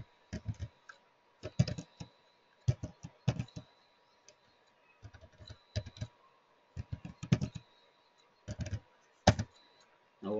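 Computer keyboard keys clatter in uneven bursts of quick taps with short pauses between them, close and fairly quiet, while someone builds a Power BI DAX filter.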